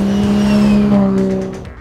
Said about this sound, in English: The HKS T51R turbo kit not only sounds good, it makes great power as well